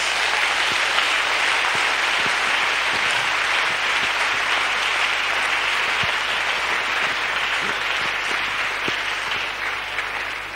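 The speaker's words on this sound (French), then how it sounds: "Acclamons pour Jésus-Christ." A large congregation applauding and cheering for Jesus Christ at a church gathering, a continuous, loud, dense roar of clapping lasting the whole stretch and easing slightly at the end.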